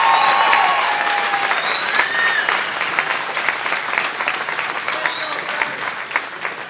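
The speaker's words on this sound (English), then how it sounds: "One more round of applause for" Large crowd applauds steadily at a fishing tournament awards stage, a dense wash of clapping that holds for several seconds with a few whistles and cheers rising above it.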